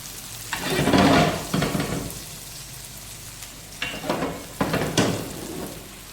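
Reshmi kebabs frying in oil on a pan give off soft sizzling and bubbling, swelling in several bursts as the pieces are moved, then settling to a quieter crackle between them.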